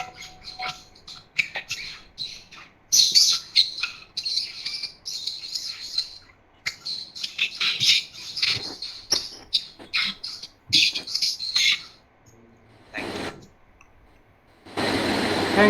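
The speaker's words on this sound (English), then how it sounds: "Sound of a chirping of birds." Birds chirp in quick repeated bursts of high, bright tweets, fairly close and loud, with brief pauses between flurries and no talking.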